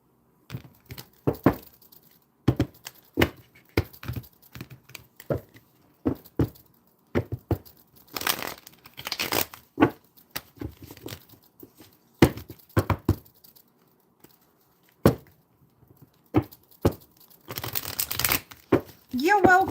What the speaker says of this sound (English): Let's give all the decks a good shuffle up